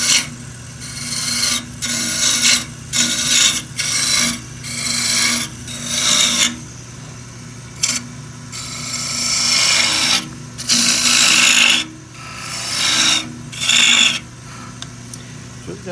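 Wood being turned on a lathe to shape a spinning top, a gouge cutting away material in repeated scraping, rasping passes over a steady motor hum, close and loud with brief pauses between cuts.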